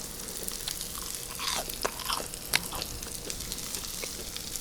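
Crisp fried tonkatsu being bitten and chewed close to the mic at a Korean restaurant meal, with scattered crunchy bites and a few sharper cracks over a steady hiss of sizzling background noise.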